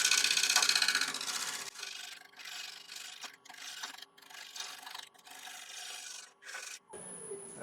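A woodturning tool shear scrapes an ash wood bowl spinning on a lathe, giving a steady, close rasping hiss in repeated gentle passes with brief pauses between strokes and no talk.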